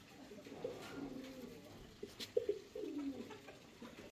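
Domestic pigeons coo softly nearby in a few low, rolling calls, fairly faint against a quiet background, with no speech.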